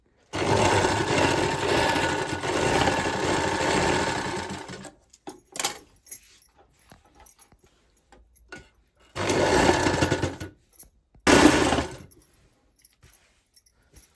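Sewing machine stitching the border of a quilt made from old saris: a long, steady whirring run, then two shorter bursts after quiet gaps, loud and close with no talk.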